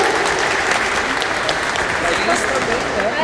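Audience applause for panel guests at a Brazilian legal talk event on the right to health, a steady dense wash of clapping that holds at the same level throughout, with some talking beneath it.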